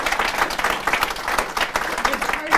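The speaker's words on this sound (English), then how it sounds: "How about one nice round of applause?" A round of applause for the mayoral candidates at an AAUW forum in Hastings, steady clapping from a seated audience, fairly close and continuous, with some voices mixed in.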